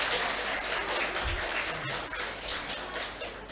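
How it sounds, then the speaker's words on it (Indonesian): An audience of students claps at the close of an Islamic talk at a vocational school, a steady wash of applause with scattered sharper claps, moderately distant and even throughout, without speech. "Tepuk tangan untuk kalian semua."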